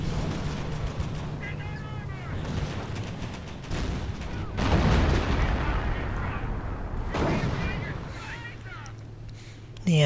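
Heavy booms of a 57mm anti-tank gun firing in the Company of Heroes World War II strategy game, a few loud blasts with rumbling tails amid battle noise, under a commentator's voice.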